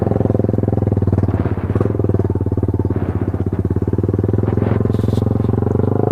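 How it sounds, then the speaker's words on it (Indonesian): A loud motorcycle exhaust rumbles steadily and close by on a village road in Sodonghilir, its continuous throbbing engine note dominating throughout with some rattling clatter and no break in the sound. "Bising anjir knalpotnya."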